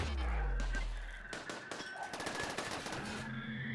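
Rapid turret gunfire from a RimWorld base defence, a fast rattling string of shots after a deep low rumble, moderately loud and steady through the end.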